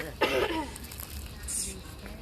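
A person coughs or clears the throat once near the start, a short rough burst up close, followed by quieter low background noise.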